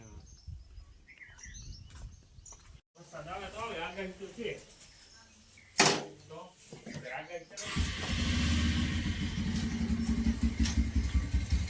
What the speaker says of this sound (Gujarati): કાઢો બારે બાઈક